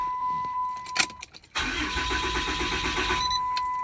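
A car fitted with a newly installed electric fan clutch: a chime tone and jingling keys, a brief crank, then the engine catches and settles into a steady, close idle.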